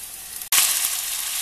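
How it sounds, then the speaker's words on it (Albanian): Thinly sliced meat and vegetables in a pan burst into a loud, bright sizzle after a brief quiet moment, then keep frying in a steady, hissing crackle. "Mishin e preva feta të hollën dhe do e skuqim, do jedhim dhe pak ujë që ta skuqim mirë me perimet."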